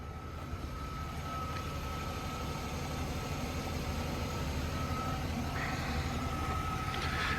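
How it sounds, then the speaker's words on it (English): A Jaguar X300 XJ6 with the 3.2-litre AJ16 straight-six idles steadily nearby, a smooth, even low hum that holds constant for several seconds with no voices over it. "You can hear this car running"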